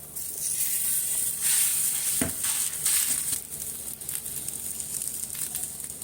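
Flatbread cooking on a lightly oiled tawa gives a steady soft sizzle and crackle, with a sharp knock partway through and rustling handling noises, close by and without speech.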